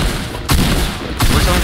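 Two loud, sharp gunshots from a Fortnite battle crack about a second apart over dense, noisy background game sound.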